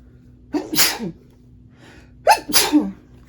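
Two sharp sneezes about a second and a half apart, each a quick intake followed by an explosive burst, close and fairly loud in a quiet room, with no talking around them.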